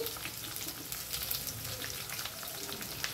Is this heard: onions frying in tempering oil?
yes